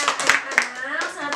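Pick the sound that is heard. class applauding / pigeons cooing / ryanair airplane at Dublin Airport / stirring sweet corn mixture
class applauding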